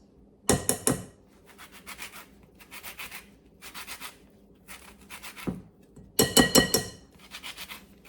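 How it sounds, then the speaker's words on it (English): Orange zest being grated for almond biscotti, a dry rasping scrape in short bursts, with a few sharper, louder strokes, heard close with no talking. "Let's add about 1/2 an orange zest."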